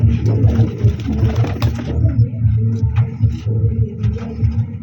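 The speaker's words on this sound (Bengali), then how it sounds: "আসলে এখানে অনেক কবুতর আছে" Many pigeons in a loft coo continuously, a loud, dense throaty drone of overlapping calls with a constant low hum beneath.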